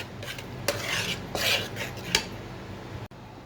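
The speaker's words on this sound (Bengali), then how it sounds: "এই তো এখন আমি এটাকে ভালোভাবে মিশিয়ে নিচ্ছি" A utensil stirs a honey mixture in a bowl, close by, with scraping swirls and a few sharp clinks against the sides over a soft background hum.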